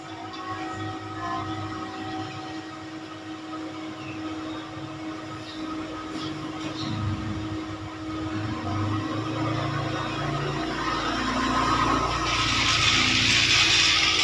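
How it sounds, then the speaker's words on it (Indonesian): A Rail King toy locomotive pulling nine wagons runs steadily with a continuous motorized whir and rattle that grows gradually louder and nearer, with no talking. "nyalakan keretanya teman-teman"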